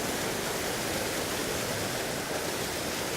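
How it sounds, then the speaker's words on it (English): A fairly large waterfall pours in a continuous, loud, dense roar, steady and unbroken from start to finish with no voices. "See a fairly big waterfall."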